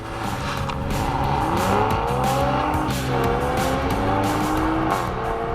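A Toyota Supra and a Honda Civic Type R launch side by side in a drag race, engines screaming through rising gears with shifts and a tire squeal, loud and sustained throughout.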